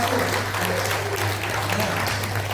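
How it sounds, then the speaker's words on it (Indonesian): Workshop participants clapping for a group presentation at a cocoa roadmap meeting for Papua held in a hotel, a brief steady round of applause over a low electrical hum. "Kasih tepuk tangan untuk kelompok 1."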